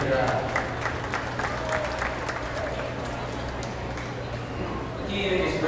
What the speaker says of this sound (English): Give both of these young ladies a round of applause here in our champion drive